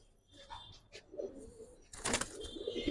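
Pigeons in a loft coo softly and flutter, with faint scattered calls and a louder burst of wing flapping near the end, all fairly quiet and close.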